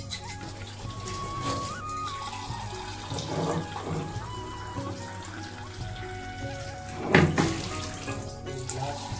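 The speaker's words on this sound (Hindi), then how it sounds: "और इसमें पानी डालना है" Water pours from a glass into a pot of dal, a splashing stream under soft kitchen clatter with a louder splash near the end; no one speaks.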